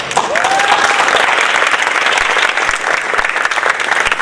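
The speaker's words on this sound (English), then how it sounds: "And it's a big round of applause." An audience at a college writing awards ceremony gives a big round of applause for the winners, loud dense clapping sustained evenly throughout, with a brief whistle near the start.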